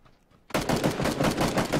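A sudden burst of rapid automatic gunfire in PUBG, loud and close, starting after a brief quiet moment and continuing as a steady rattle of shots to the end.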